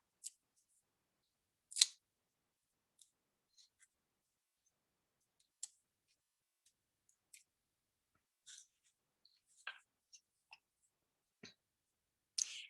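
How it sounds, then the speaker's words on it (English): Scissors cut a strip of tape into a small square, giving sparse, faint, close snips and clicks spread out over quiet moments. "I use a strip of tape, cut it into a little square."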